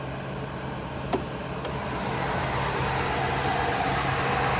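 A 2022 Ford F-350 pickup's 6.7-liter turbocharged V8 diesel idles close by, a steady low even rumble with a faint background hiss and one brief tick early on.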